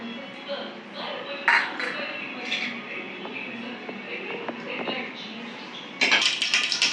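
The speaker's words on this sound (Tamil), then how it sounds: "கடுகு பொரிஞ்சிருச்சு." Mustard seeds splutter and pop in hot cooking oil for a Tamil tapioca stir-fry, giving scattered sharp crackles close by, with a louder flurry of pops near the end.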